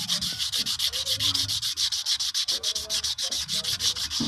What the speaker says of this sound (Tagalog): Ito, liyahin natin.